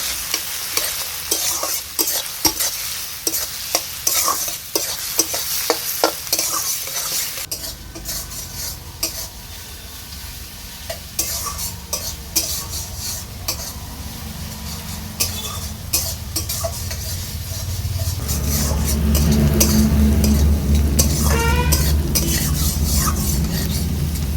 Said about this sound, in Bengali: পেঁয়াজ কুচিটাকে আমি বেশ কিছুক্ষণ নেড়ে চেড়ে নিয়েছি।